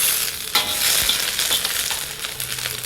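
Ginger hits hot sesame oil in a wok, giving a bright continuous sizzle with a few scraping stirs and clinks, close and fairly loud, no voices over it.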